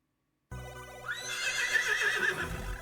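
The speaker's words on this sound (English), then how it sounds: "I heard a horse." A horse whinnies loudly in a video game, a long rising and falling neigh after a brief silence, with music and game sounds underneath and no talking.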